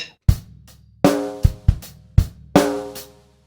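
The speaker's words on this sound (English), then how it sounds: "So that groove in bar 2 sounds like this." One bar of a drum kit groove from a Trinity grade 3 piece, about seven crisp hits with a shuffled feel and ringing cymbals, played alone and close.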